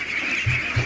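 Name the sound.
ducks quacking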